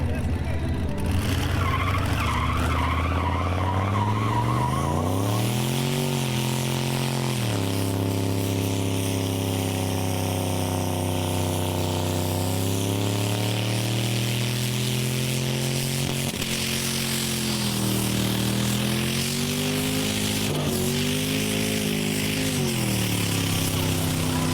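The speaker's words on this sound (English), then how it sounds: "it was time to do the burnout" A car doing a burnout at a burnout event, the engine roaring loudly with rising and falling revs while tires skid and squeal, continuous and close throughout, with voices faintly under the noise.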